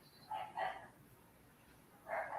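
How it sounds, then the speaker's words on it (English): Small dogs bark in a couple of quick, faint bursts from a distance, with a pause between them, over a quiet indoor background. "I hear them barking."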